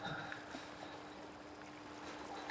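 River water flowing in the video game Resident Evil Village on PlayStation 5, a steady soft rushing wash with faint trickles, even and continuous throughout.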